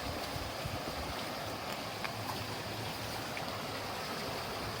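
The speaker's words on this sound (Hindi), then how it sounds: "अब पानी की आवाज़ सुन सकते हैं," Water from a mountain stream rushes steadily over rocks on a trekking trail, forming a continuous broadband roar at close range with no voices.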